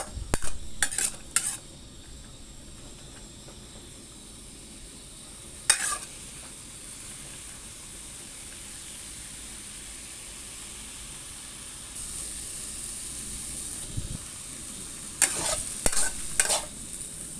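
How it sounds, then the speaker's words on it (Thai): Snake gourd stir-frying in a pan, a steady soft sizzle throughout with a few sharp clinks of a utensil scraping and tapping the pan near the start, middle and end, close with no talking. "เราจะปิดฝาไว้ก็ได้นะคะ หรือว่าเราจะผัดไปเรื่อยๆก็ได้นะคะ"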